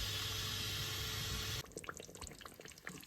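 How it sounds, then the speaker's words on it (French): Cooked pasta being drained into a sink, a loud rushing pour of water that stops abruptly halfway, followed by scattered drips and small wet clatters nearby. "On va pouvoir les égoutter."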